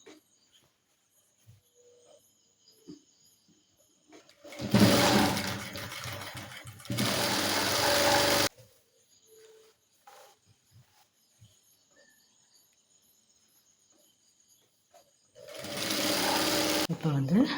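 A sewing machine runs a seam on girls' school uniform pants in loud, fast, steady bursts, the longest about four seconds, with quiet gaps and faint fabric handling between them.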